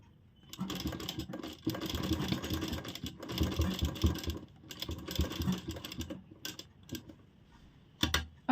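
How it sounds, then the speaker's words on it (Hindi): A sewing machine runs slowly along a fabric edge in bursts of dense, rattling stitching, pausing briefly between runs, close and fairly loud. "हमें बहुत तेज मशीन नहीं चलानी, क्योंकि सिर्फ किनारे पे ही हमारी सिलाई लगनी है"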